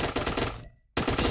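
Close, loud automatic gunfire in a Point Blank tournament match, a rapid burst that cuts off into brief silence before another burst starts.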